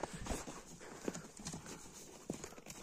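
A horse's hooves clip-clopping at a steady walking rhythm, faint and somewhat distant, with a few sharper hoof strikes standing out over outdoor background noise.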